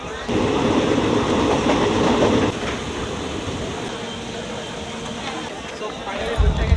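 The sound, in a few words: train running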